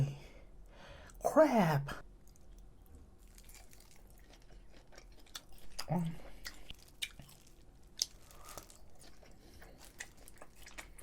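Close, wet chewing of a thick pork tomahawk cut dipped in sesame oil sauce, with a few moist bites and smacks over quiet pauses and soft, faint vocal sounds.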